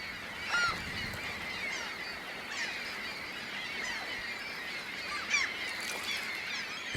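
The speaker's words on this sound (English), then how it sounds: "Gulls fly in from the Great Lakes to enjoy the feast." Gulls from the Great Lakes feed on fish trapped in ice on the Mississippi River, a dense outdoor chorus of overlapping squawking calls, some sharp cries nearby over a steady flock din.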